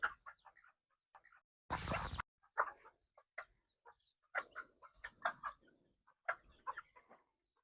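Chickens on a poultry farm cluck and call in short, scattered bursts, fairly close, with one brief loud rustle partway through and no talking.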